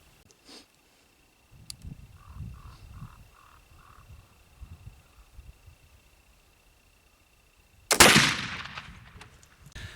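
A flintlock gun fires homemade Osage and sycamore black powder, one sudden loud blast with a short ringing tail near the end, after several seconds of near quiet broken only by faint soft noises.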